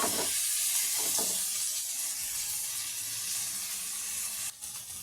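Onions sautéing in a hot pan for a spicy rainy-day dish give a steady, close sizzle and hiss that stays even and unbroken, with a short dip near the end.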